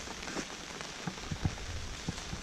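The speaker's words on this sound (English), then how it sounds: "really overcast and stuff, raining like I said" Rain falls on a bay under overcast skies during a fishing trip, a steady soft hiss of drops with scattered louder pattering taps close by, no talk.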